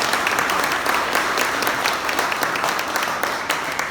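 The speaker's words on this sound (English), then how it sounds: "if we could get a round of applause" An audience at a farmer panel discussion on the corn growing year in Eastern Ontario gives a round of applause, dense, continuous clapping filling the room from start to finish.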